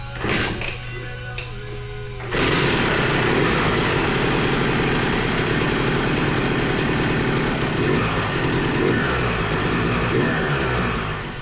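An engine on a stand in a motorcycle shop cranks a couple of seconds, then catches and runs loud and steady with a rough, rapid idle through to the end.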